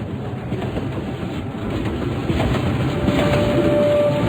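A train carriage in a horror video game rumbles steadily along the rails, a low continuous rolling noise with faint rhythmic clatter, growing slightly louder toward the end.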